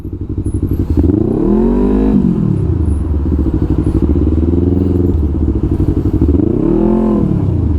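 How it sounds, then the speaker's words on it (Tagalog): A close motorcycle engine in heavy road traffic revs up and drops back repeatedly in rising and falling surges over a constant loud rumble. "Traffic malala talaga."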